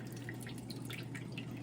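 Water steadily dripping off a freshly cut toadstool coral onto a cookie sheet, a continuous close patter of small drops with a faint background hum.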